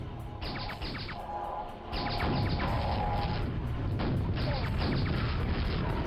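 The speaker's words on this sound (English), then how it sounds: "I can rocket jump up there" A rocket jump explosion in Quake: Scourge of Armagon, played on Hard, lands as a loud, sudden broadband blast about two seconds in and rumbles on as a sustained roar amid game noise, with a busier blend of ambience before it.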